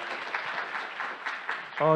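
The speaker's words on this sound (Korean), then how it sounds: "다시 한번 큰 박수 부탁드리겠습니다" Audience applause after a talk at a battery technology conference session on solid-state batteries, a steady patter of clapping lasting about two seconds before a voice cuts in at the end.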